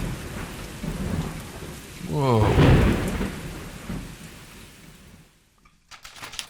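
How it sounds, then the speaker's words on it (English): A thunderstorm sound effect: a loud roll of thunder swells over steady rain and then fades out. One person gives a brief startled exclamation at the end. "It was a dark and stormy night."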